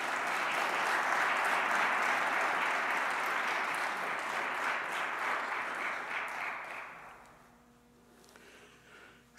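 An audience at a Martin Luther King Jr. remembrance ceremony gives sustained applause for student speakers, a dense steady patter of many hands that thins out and fades near the end.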